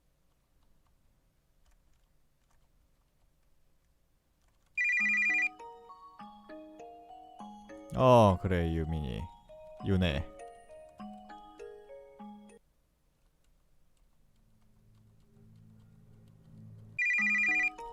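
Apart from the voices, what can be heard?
telephone ringing with incoming call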